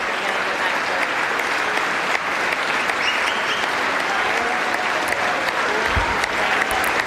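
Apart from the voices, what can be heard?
audience standing and clapping after House speaker vote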